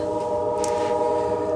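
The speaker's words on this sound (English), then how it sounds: "And there's a train" Train passing near a porch at night, a steady loud rumble of rail cars with a sustained horn tone running throughout, close and continuous.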